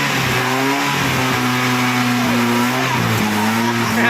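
A Nissan car engine runs steadily just after starting, a loud, close, even idle hum with a faint shift in pitch partway through and no voices over it.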